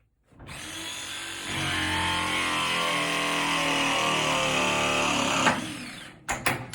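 A ProPress crimping tool whirs steadily for several seconds while pressing a copper pipe fitting during a water heater install, ending with a click and a couple of short knocks.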